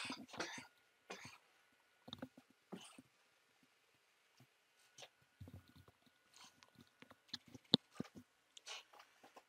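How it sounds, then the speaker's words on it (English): A man with allergies and a head cold coughs and clears his throat in short, scattered bursts, close and fairly quiet, with gaps of near silence between them. "after I finish coughing because allergies"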